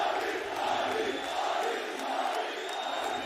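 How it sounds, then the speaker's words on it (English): A large esports arena crowd at a Valorant Champions match in Istanbul roars and cheers in a dense, sustained wall of noise, with rhythmic chanting pulses throughout. "The crowd absolutely behind this man. They can feel it. They are cheering his name."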